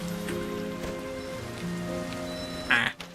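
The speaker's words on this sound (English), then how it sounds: "the rain washes away your light, which can be roughly equated to life force" Rain falling in the game Sky: Children of the Light, a steady soft patter over a low droning music bed, with a brief brighter chime rising near the end.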